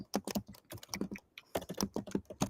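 Rapid typing on an external computer keyboard, close and crisp, with bursts of keystrokes separated by a brief pause midway, no voices.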